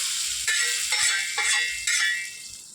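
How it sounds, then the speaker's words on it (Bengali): Cumin seeds, dried red chilies and bay leaves hit hot oil for a katla fish curry tempering, crackling in several loud bursts of sizzle that swell and fade, close and with no talking. "তেল গরম হয়েছে, এখন আমি জিরে আর শুকনো লঙ্কা আর তেজপাতা ফোড়ন দিই।"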